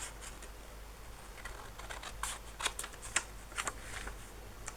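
Scissors snipping a strip of paper off a memory journal page at a craft table, a few quiet crisp cuts clustered near the end over faint paper rustle, close and soft with no talking.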